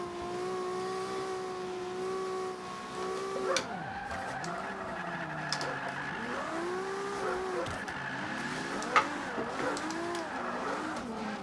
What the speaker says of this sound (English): Wow, that car screams.